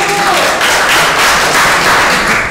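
Steady applause from a classroom full of people, dense clapping sustained throughout at a fairly loud, close level.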